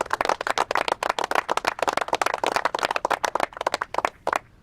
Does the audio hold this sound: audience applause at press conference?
yes